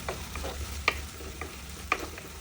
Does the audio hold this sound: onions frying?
yes